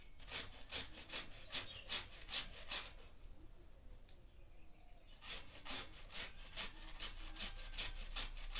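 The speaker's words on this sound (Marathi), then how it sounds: "तर हे सोलणार आहे आणि किसून घेणार आहे मी." Small peeled potatoes are rubbed on a grater, a close rhythmic scraping of quick regular strokes that pauses for about two seconds before resuming, with no talk.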